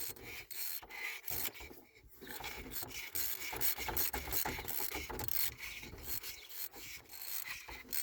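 Close, irregular ratcheting, rubbing and scraping as a wrench tightens a part on a high-mileage car engine. The clicks come in uneven bursts with brief pauses.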